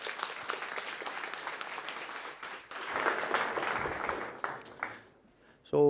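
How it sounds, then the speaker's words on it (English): A conference audience at a lightning talk session applauds steadily for several seconds, a dense wash of clapping that swells and then fades out before a sharp sound at the end. "So let's give a welcoming applause to our first speaker, Roland."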